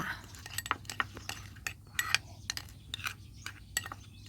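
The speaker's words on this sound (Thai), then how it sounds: "ก็จะคนให้เขาละลายไปกับนมเลยค่ะ" A spoon clinks and scrapes against a dish while shrimp paste is stirred into plain milk to dissolve it, giving soft, irregular metallic taps close by over a low steady hum, with no talking.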